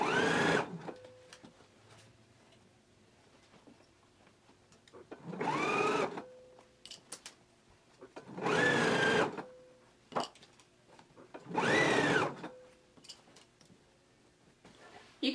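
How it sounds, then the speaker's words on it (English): Sewing machine stitching down a shirt sleeve at a narrow seam allowance, four short bursts of motorised stitching separated by quiet pauses with small handling clicks between. "we can take it to the machine and stitch it down at 1/5 inch seam allowance"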